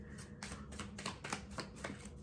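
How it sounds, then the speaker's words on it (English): A deck of tarot cards is shuffled by hand in a quiet room, giving a quick series of soft riffling slaps and flicks, close and fairly faint. "Oh, what am I doing? I'm shuffling this."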